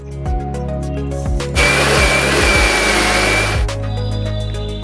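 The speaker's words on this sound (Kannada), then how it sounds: "1 ಕಪ್ಪಷ್ಟು ನೆನೆಸಿದಂಥ ಹೆಸರು ಕಾಳನ್ನು ಈ ರುಬ್ಬಿದಂಥ ಅಕ್ಕಿಗೆ ಹಾಕೊಂಡು ಮತ್ತೆ ಮಿಕ್ಸಿಗೆ ಹಾಕೋಣ" Mixer grinder grinding soaked green gram together with ground rice into dosa batter, a loud steady whir running at full power alone for about two seconds, framed by short motor pulses before and after.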